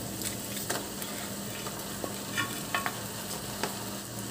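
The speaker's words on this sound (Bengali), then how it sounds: "মাথাগুলো দিয়ে আবার সব একসাথে কষাবো।" Fish heads go into a pan with spice paste and are sautéed together for a Bengali chorchori. There is a soft, steady sizzle with light scraping stir strokes, fairly faint and close, and no talking.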